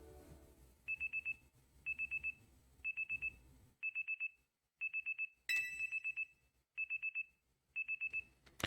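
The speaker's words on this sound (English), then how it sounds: "Your alarm is going off." An alarm rings in the Pokemon Legends Z-A video game as a bright electronic ringtone, sounding in repeated short bursts of rapid trills about once a second over a quiet game background.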